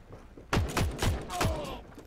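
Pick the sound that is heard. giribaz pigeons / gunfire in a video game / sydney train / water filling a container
gunfire in a video game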